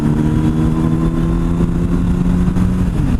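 A motorcycle engine drones steadily at a constant pitch while riding in a high gear, loud and close, with no clear rev change or shift heard.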